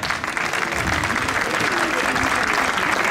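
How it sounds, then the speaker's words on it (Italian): An audience applauding at the opening ceremony of a food festival, dense continuous clapping that holds steady and loud for the whole stretch. "Un applauso."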